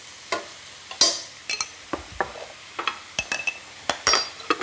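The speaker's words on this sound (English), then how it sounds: "I'm just going to cook that in the heat of the pan for a minute or so." Spice mix and onions fry in a hot pan, a soft sizzle under a string of sharp utensil taps and scrapes from stirring, close and without talk.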